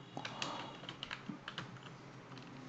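Keys clatter on a computer keyboard in a run of quick, fairly faint taps, up close and with no voice over them.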